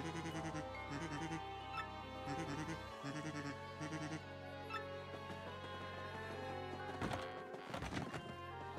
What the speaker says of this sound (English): A lot more pigs too.